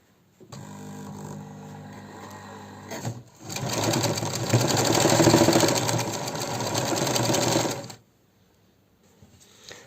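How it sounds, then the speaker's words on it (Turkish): A sewing machine stitches the zipper fly of a pair of trousers: a quieter start, then a loud, fast, steady whirring run of stitching that stops abruptly near the end. "Dikişimizi dikiyoruz"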